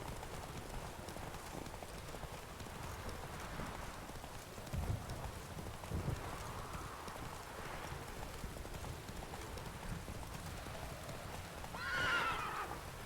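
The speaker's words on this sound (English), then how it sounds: "Ooh, wild horses." Wild horses in The Witcher 3 video game: a soft, steady bed of hoofbeats and rain-like ambience runs throughout, with a distant whinny rising near the end.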